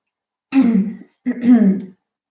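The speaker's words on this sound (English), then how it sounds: "Sorry, still recovering from a cold. I don't want to cough into the mic." Two short, raspy throat-clearing bursts from someone recovering from a cold, close to the mic, separated by a brief pause, with no talking.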